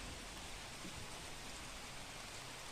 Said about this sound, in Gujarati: લીલિયા શહેરમાં વરસાદ વરસી રહ્યો છે